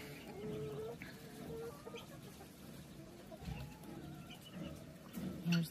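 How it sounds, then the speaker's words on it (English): A mother hen sitting cozy with a brood of ducklings, giving soft, low clucks at intervals, close by with a little outdoor background and no one talking. "Here is Mama Hen, and they seem nice and cozy."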